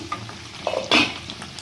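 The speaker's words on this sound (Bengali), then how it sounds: "আমি আরেকটু নাড়িয়ে নিচ্ছি।" Stirring hilsa fish curry with mustard and poppy seed paste in a wok over low gas: soft scraping and clinks of a spatula against the pan, with a brief louder scrape amid a faint sizzle, no voices.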